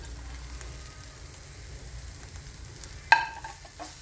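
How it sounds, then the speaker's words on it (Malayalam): Chicken pieces, fried after being coated in masala, stirred in a hot pan with curry leaves, giving a soft steady sizzle and a sharp scrape or clatter near the end, with no talk. "അതിട്ട് കൊടുത്തിട്ട് നല്ലോണം ഇളക്കിയെടുക്കാം"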